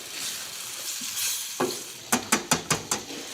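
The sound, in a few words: adding balsamic vinegar to a simmering sauce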